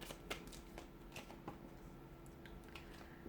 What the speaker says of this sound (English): let's go ahead, give the cards a shuffle